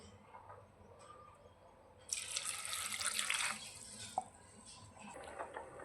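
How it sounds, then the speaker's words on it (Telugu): Water from a glass pours into a pressure cooker holding chopped radish pieces in a home kitchen, a short splashing gush lasting about a second and a half, fairly close, with no talk. "ఇందులోకి ఒక గ్లాస్ వాటర్ వేయాలి"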